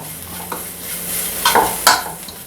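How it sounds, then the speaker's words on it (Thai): Homemade pounded curry paste for chicken curry stir-fried in a pan, a steady sizzle with scraping stirs and two louder stirring bursts near the end, close and without talk. "เราก็จะผัดเครื่องแกงเราให้หอมก่อนนะครับ"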